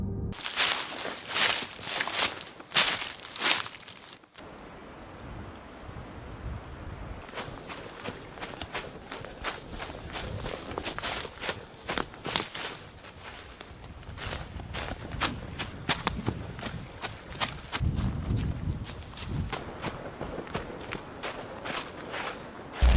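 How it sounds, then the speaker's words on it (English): Footsteps move through a forest, a steady run of crunching steps on leafy ground, close and fairly loud, broken by a brief pause early on and then continuing evenly. "Then he starts to hear footsteps behind him."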